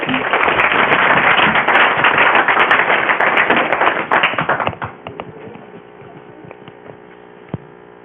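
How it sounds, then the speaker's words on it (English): An audience at a December school district board meeting applauds a student being honored, with dense, loud clapping for about four seconds that then quickly thins out to a few scattered claps and quiet room noise. "Round of applause for Samantha."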